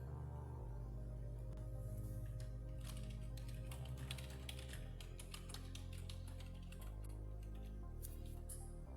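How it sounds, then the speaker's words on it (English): Someone types a chat message on a computer keyboard while playing GTA V with the LSPDFR police mod, giving a rapid, irregular run of quiet key clicks and taps over a low steady background hum. "I am typing to chat right now."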